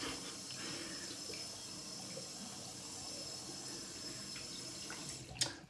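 Water runs steadily from a tap to wet a shaving lather, a quiet continuous splash indoors with no talking and a brief clatter near the end.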